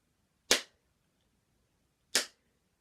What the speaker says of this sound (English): See if you can clap when I do.